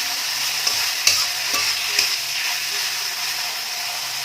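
Vegetables, including cabbage, sizzle and fry for a veg soya chunk chowmein, with a few sharp stirring clacks over a constant loud hiss.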